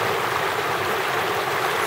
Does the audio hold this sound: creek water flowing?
yes